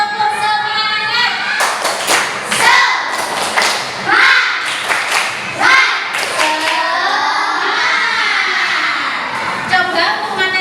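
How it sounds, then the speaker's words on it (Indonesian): A classroom of students doing the tepuk semangat cheer, clapping in a rhythmic pattern of hand claps and thumps. Young voices chant along loudly over the claps. "mari kita tepuk semangat"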